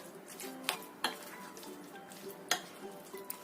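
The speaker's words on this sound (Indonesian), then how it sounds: "Kita aduk sampai tercampur rata semuanya." Bakwan fritter batter being stirred by hand in a bowl, with a few sharp utensil knocks against the side punctuating a soft, steady mixing scrape, close and fairly quiet, no voices.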